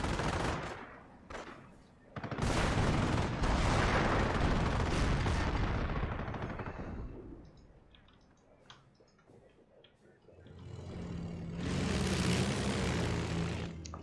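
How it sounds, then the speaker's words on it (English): Allied aircraft flyover in a WWII strategy game, a loud roaring rush lasting several seconds amid gunfire and explosion bursts, fading away, then another heavy roar building near the end. "Must be an allied flyover."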